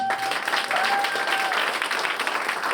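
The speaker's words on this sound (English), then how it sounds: "Let's give another round of applause." An audience at a corporate Citi announcement event breaks into steady, dense applause, a continuous wash of clapping that holds evenly throughout without voices on top.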